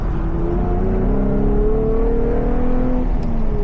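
A car cornering on Continental DWS06+ tires, a loud steady engine drone and road roar that shifts slightly in pitch as the car turns, with no talking.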